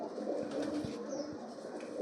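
Fancy pigeons coo softly in a low, continuous burbling murmur, fairly faint and without talk.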